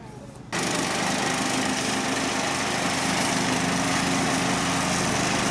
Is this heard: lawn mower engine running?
yes